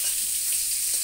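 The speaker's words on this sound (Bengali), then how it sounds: "এবার পটলগুলো দিয়ে দেবো, উনুনে লাল লাল করে ভাজবো।" Pieces of pointed gourd (potol) fry in oil in a pan on the stove, giving a steady, close sizzle with no talking.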